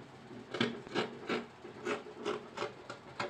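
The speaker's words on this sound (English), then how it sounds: "So I'm just going to trim out excesses." Scissors trimming excess fabric while cutting a princess dart bustier top, a quick run of about nine soft, rhythmic snipping and rasping strokes, close and fairly quiet.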